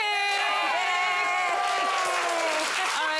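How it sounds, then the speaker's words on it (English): A television talk show studio audience welcoming a guest with sustained applause and cheering, steady clapping over bright music, loud and continuous throughout. "keep that applause going"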